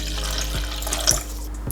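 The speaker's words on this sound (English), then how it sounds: "I'll just add some water for 2." Tap water running briefly into a container for barley grass juice powder, a close, steady splashing trickle with a few small drips.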